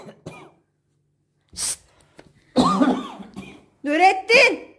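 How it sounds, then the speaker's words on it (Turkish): A person coughs in a few harsh, close bursts separated by short quiet gaps, with some throat clearing and rough breathing sounds between them. "Ciddi ciddi öksürüyor galiba."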